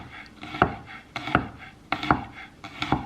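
A knife slices garlic cloves thinly on a cutting board, four crisp, separate knocks of the blade against the board at a slow, even pace, close and clear with no talk.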